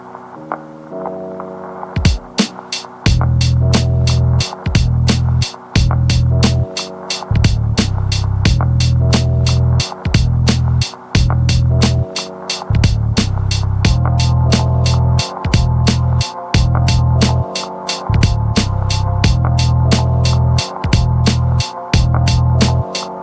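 A low, droning piano loop repeats in rhythmic chunks, heavy and pitched down, looping steadily with brief gaps between phrases.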